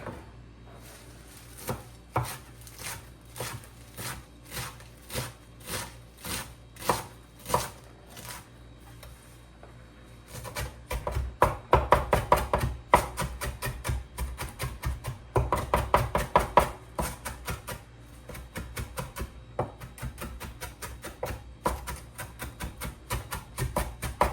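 Knife chopping onion on a cutting board for a tabbouleh herb salad, a steady run of sharp close knocks that grows faster and denser halfway through, with no talk.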